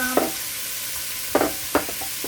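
Shrimp go into a high pot for shrimp fried rice, where they fry with a steady sizzle broken by three short, sharp bursts of crackling and stirring.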